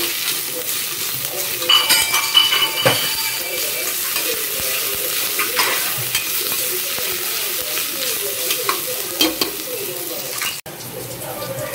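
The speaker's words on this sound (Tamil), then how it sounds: "இஞ்சி பூண்டோட பச்சை வாசனை போகிறது வரைக்கும் வதக்கிக்கலாம்" Ginger-garlic paste sautéing with fried onions in a pan for a potato salna, a steady close sizzle with occasional stirring scrapes and light clatter throughout.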